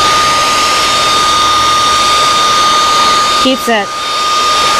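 A dryer blows steadily and loudly at close range to dry a sprayed fishing lure, a constant whooshing hum with a steady whine, briefly interrupted near the end by a short spoken phrase.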